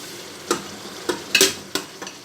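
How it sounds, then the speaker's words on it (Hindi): Masala and tomatoes being fried in a pan for an egg and potato curry, with a few sharp, evenly spaced stirring scrapes over a faint, steady sizzle. "टमाटर डाल के मसाला अच्छी तरह भून लें।"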